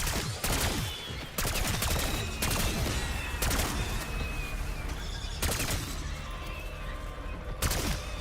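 Bursts of rapid gunfire from Call of Duty Black Ops 6 Zombies, repeated volleys spread across the scene over dense game noise and shrieking creature sounds, loud and close.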